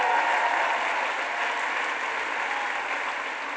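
Steady, dense applause from a Bard College commencement crowd honoring President Leon Botstein, a continuous even wash of many hands clapping with no talk over it.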